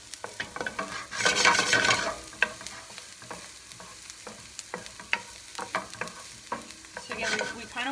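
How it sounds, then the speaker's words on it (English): Fried rice ingredients sizzling in a hot pan while being stirred and scraped, with a steady frying hiss and frequent sharp utensil clacks spread through, loudest in a burst early on. "Now you can really see what's actually cooking in the pan."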